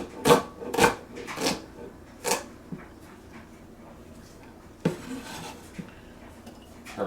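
A knife chops a vegetable on a cutting board in a home kitchen while breakfast skillet ingredients are prepared, giving a handful of close, uneven knocks with quieter clatter between.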